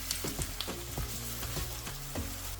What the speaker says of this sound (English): Let's pour some vegetable oil into a wok now, then I'll add the onion and fry it until it softens.